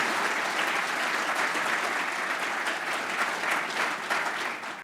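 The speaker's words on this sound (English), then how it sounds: "I think they deserve a round of applause" Steady applause from a seated audience at a formal historical society dinner, dense and even for about five seconds before thinning slightly at the end, with no voices over it.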